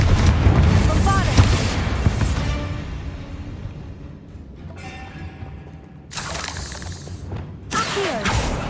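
Bombarda and Confringo explosion spells cast in the Hogwarts Legacy video game, heard as loud booming blasts with crackling debris, one at the start and two more bursts near the end, with a quieter rumbling stretch between.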